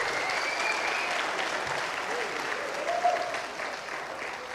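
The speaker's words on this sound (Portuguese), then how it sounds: "Se você acredita, aplauda bem alto o nome de Deus nesta manhã." A church congregation at a Sunday morning service applauds loudly and continuously, a dense wash of clapping with faint voices mixed in and a brief shout near the end.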